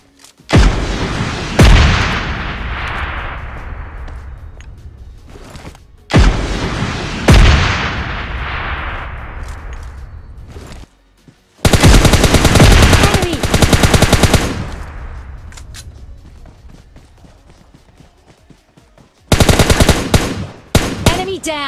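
In PUBG Mobile Lite, RPG blasts and automatic gunfire come in loud bursts: deep booming explosions with long decaying rumbles alternating with dense, rapid machine-gun volleys.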